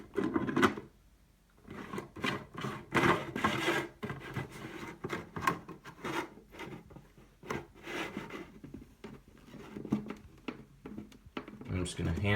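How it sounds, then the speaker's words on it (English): A replacement filter for an Aquagear water filter pitcher is hand-screwed onto the plastic base, giving close, rhythmic rasping and rubbing turns with brief pauses, under steady talk from a man. "the filter screws right onto the base"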